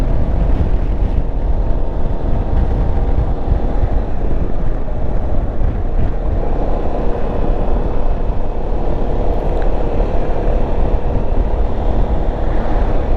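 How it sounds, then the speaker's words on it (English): Yamaha XMax 300 scooter climbing uphill, its steady engine drone mixed with heavy wind rush at the microphone, loud and continuous throughout with no talking. "this is the XMax 300, and this is also going uphill as well"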